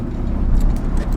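A Honda Integra DA9, fitted with smaller wheels and tires, has its engine running with a loud, steady low rumble close to the microphone, heard alone without talk.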